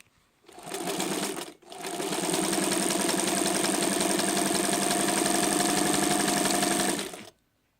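A vintage Janome New Home sewing machine stitches a zigzag in a steady, rapid mechanical hum and chatter. It runs close and loud, breaks off briefly after the first second, then runs evenly until it stops.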